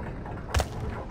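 A single muffled bomb blast goes off in the stealth game Thief, a short low thud rising briefly out of steady background ambience.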